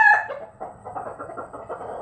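Hungry chickens kept from feeding all day cluck close by, a loud burst at the start followed by a steady run of busy, overlapping clucks.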